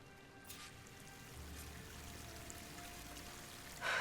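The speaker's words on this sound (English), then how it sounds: "That waterfall must be coming from somewhere." Water from a waterfall rushes in the video game Horizon Forbidden West, a steady, fairly faint pouring hiss that carries on alone and swells louder right at the end.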